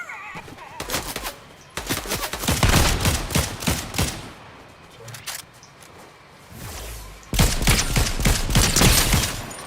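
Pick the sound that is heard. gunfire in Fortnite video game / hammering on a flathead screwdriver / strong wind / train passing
gunfire in Fortnite video game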